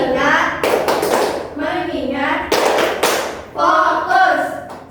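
Hands clap in a classroom 'tepuk fokus' chant, several sharp broadband claps falling in a steady rhythm, close and fairly loud, interleaved with children chanting together in voiced bursts.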